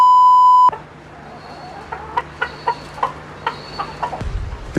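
Hens in a reality-show house cluck in a rapid series of short, sharp calls after a brief electronic beep, close and fairly quiet against faint background noise, building to a denser burst at the end.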